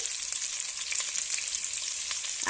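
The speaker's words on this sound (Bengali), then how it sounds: "এক এক করে আলুগুলো আমি তেলের মধ্যে দিয়ে দেব" Potato pieces fry in hot oil in a pan while a Bengali chicken dak bungalow curry is being made, producing a steady, close, crackling sizzle throughout with no voices.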